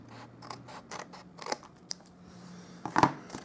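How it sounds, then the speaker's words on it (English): Scissors trim a paper card during card-making, giving a few short, quiet snips and cuts close up, ending in one sharper clip. "Then I'm going to grab my scissors and give that a trim."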